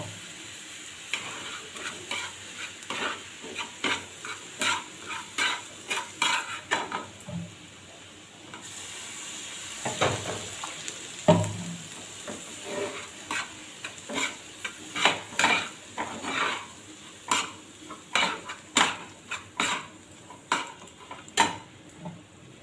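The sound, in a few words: semolina frying in a pan as water is added and stirred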